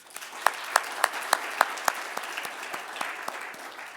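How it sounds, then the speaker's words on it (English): An audience claps in a steady wash of applause, with sharp individual claps standing out at a quick, irregular rhythm. No voices are heard. "A round of applause to all of them."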